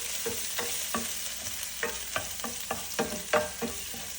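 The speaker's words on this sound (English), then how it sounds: "add the garlic and ginger first. So garlic and ginger. And saute it until it's soft" Garlic and ginger sauté over medium heat in a pan, a constant hiss of frying punctuated by regular spatula scrapes and taps roughly every half second, no voices.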